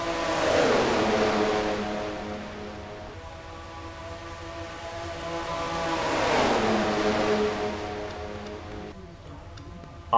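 Stock cars racing at Talladega in a racing video game: engines drone in two long passing swells that rise loud and fade, a steady roar throughout with no voice over it.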